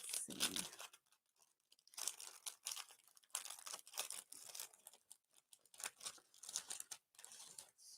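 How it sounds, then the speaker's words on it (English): Paper napkins and packaging crinkle and rustle in bursts of crisp handling noise, up close and fairly quiet, with short pauses between. "Sorry for the crinkling sound of everything here"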